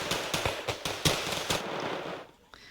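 Rapid machine gun fire in a strategy video game, about a dozen crisp, evenly spaced shots that stop abruptly near the end, loud and close, with no talk over it.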